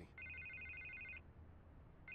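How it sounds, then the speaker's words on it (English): A telephone rings in Batman: The Telltale Series video game, one long electronic trill for about a second, then a pause and the start of another ring, fairly quiet over a low background hum. "I can't get the phone to stop ringing."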